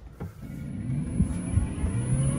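A 2024 Evolution Classic 4 Plus lithium electric golf cart pulling away on its high speed setting, a low steady electric motor hum with rolling tire noise rising slightly as it drives.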